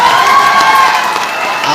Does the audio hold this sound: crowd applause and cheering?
yes